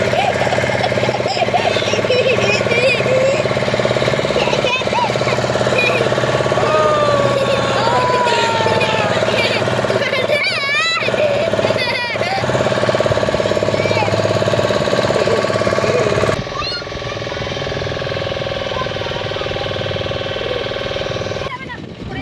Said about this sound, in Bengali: ইঞ্জিন স্টার্ট হয়েছে।